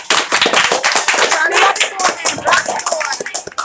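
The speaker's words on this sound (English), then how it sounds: "Give yourselves a clap, 6 feet." Students in a language arts class clap with sharp, uneven rhythm, a small group clapping close by while voices talk and cheer over them.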